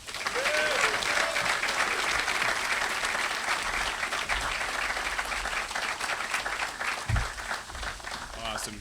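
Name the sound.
round of applause for UNLV President Keith Whitfield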